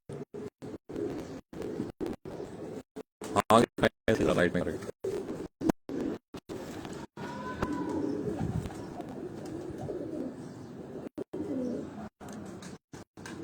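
Pigeons, kept as high-flying birds, coo softly and repeatedly close by, the low throaty calls broken by brief gaps while someone talks over them.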